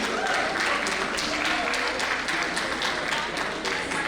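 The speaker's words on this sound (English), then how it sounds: "Can we have a round of applause for the wonderful executive of this grassroots community organization?" Audience applause at a grassroots women's community organization event, a continuous wash of many hands clapping at moderate loudness throughout.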